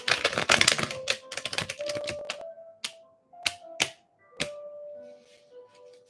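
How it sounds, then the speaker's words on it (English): Tarot cards riffle and flutter rapidly in a close shuffle, then slow into a handful of sharp separate snaps and taps. "I am shuffling these cards"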